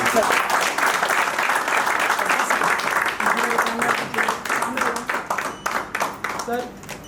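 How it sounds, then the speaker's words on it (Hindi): A crowd at a branch award ceremony bursts into loud, sustained applause, dense clapping that gradually thins toward the end, with voices talking over it. "ताली जोर से बजाइए।"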